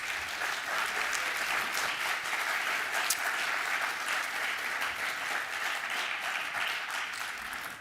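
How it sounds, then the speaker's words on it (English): Sustained audience applause at a high school dedication ceremony, steady dense clapping from a large crowd that continues evenly for several seconds without pause. "So can we give him a round of applause, please?"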